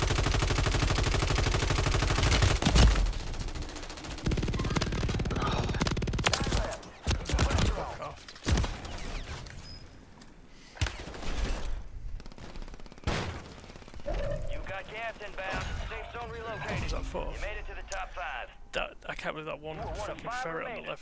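Gunfire rattles through a Warzone match in loud bursts and scattered single shots, some close and some farther off, while players talk over it.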